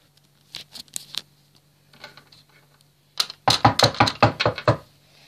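A frozen door on a country house is knocked and rattled, first a few scattered taps, then a fast burst of loud, close thumps and bangs as it is forced open.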